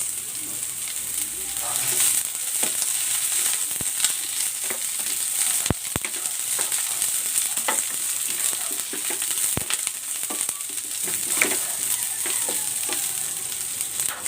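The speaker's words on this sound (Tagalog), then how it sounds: "Igigisa ko na tong bawang. At ang sibuyas." Garlic and onion sautéing in a hot pan, a steady loud sizzle and crackle running throughout with occasional sharp pops and light stirring, with no talking.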